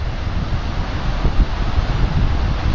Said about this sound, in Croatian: Vjetrovito.